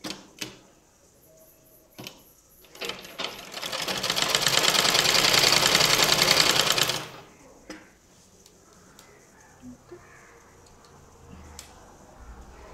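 A sewing machine stitches a churidar, starting with a few scattered clicks and handling noises, then running in a loud, steady whirring burst for about three seconds before stopping, followed by faint handling sounds.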